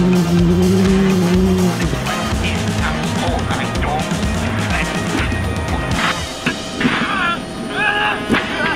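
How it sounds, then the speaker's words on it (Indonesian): Toy race car sound effects play loudly: engine revving tones, tire squeals, skids and crash-like bangs in busy succession, with a voice talking alongside. "Wow, ada mobil balap,"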